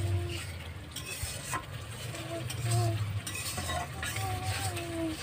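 Masala spice paste is stirred and fried in a pan for a traditional Bengali chicken curry, giving a quiet, steady sizzle with soft scraping strokes and light clinks of the utensil.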